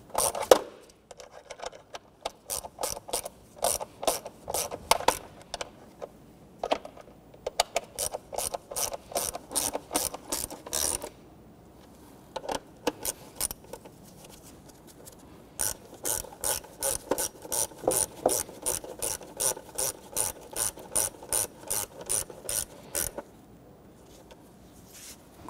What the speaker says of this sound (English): we'll go ahead and snug down our upper bolts here.